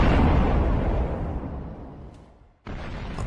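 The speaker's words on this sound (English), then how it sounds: "A massive explosion sends metal parts flying in the sky." A Russian tank blown apart after a drone strike sets off its fuel, a heavy rumbling blast that roars and slowly decays, then a sudden cut into renewed noisy rumble.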